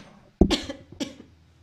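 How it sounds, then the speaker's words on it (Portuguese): A single sharp cough followed by a second shorter one, close and fairly loud, with near silence before and after. "De manhã sempre dá tosse"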